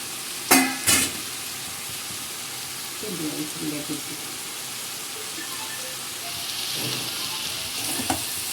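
Cut okra for yogurt bhindi goes into a hot pan: two sharp clatters up front, then a continuous close sizzle with occasional stirring scrapes.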